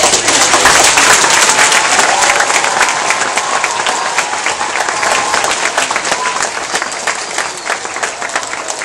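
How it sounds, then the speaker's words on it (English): A school audience of students gives a round of applause in an elementary school gathering, loud and dense at first, then slowly tapering while still going strong. "So, one last round of applause for everyone."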